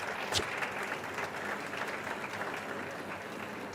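An audience at a mathematics foundation awards function applauds a winning junior team, a dense steady patter of many hands clapping throughout with a brief sharper burst near the start.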